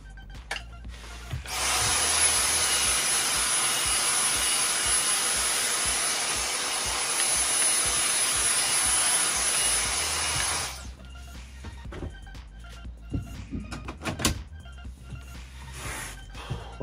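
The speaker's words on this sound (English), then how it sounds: "Love me cordless Dyson." A cordless Dyson vacuum cleaner picks up sanding dust, a loud, steady whining roar close by for about nine seconds that then cuts off, followed by quieter handling knocks.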